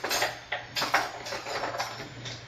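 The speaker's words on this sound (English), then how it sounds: "let me just grab a spoon" A metal spoon picked up and knocked against dishes in a home kitchen while spicy shrimp and cauliflower rice are cooked, giving a few light, close clinks with no talking.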